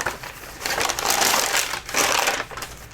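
A paper envelope in a junk journal is flipped open, giving close, crisp papery rustles and rapid crinkling bursts in a few loud waves with brief lulls between them.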